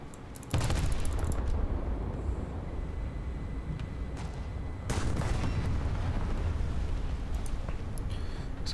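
Booming naval gunfire between battlecruisers in War Thunder, with two heavy broadband blasts a few seconds apart followed by a sustained low rumble and scattered smaller shots.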